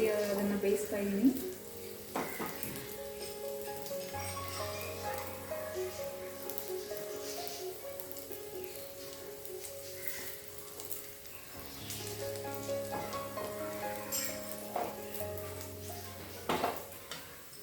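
An egg cutlet fries in a pan on its second side, giving a soft, steady sizzle with occasional utensil clinks and scrapes, fairly faint and continuous.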